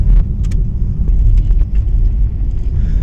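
A car engine with a silent, slipping fan belt is revved, a loud low rumble that rises and dips across the stretch, with a few faint clicks and no speech.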